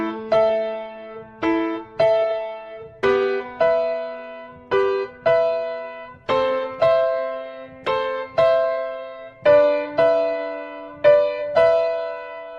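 Piano played with one finger of each hand, a steady low bass note held under a simple single-note melody, the notes struck one at a time in an even rhythm with each ringing and decaying, clear and up close with no voices.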